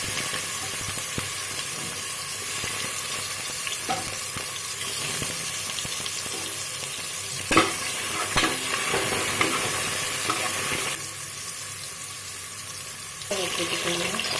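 Ginger garlic paste dropped into hot oil for a country chicken curry, a loud steady sizzle close by with spoon stirring scrapes and a brief burst partway through.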